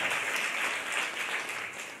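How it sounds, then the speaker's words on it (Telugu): A church congregation claps in a continuous, dense round of applause, moderately loud and even throughout. "फिर जोर से ताली बजाइए प्रभु यीशु मसीह के लिए"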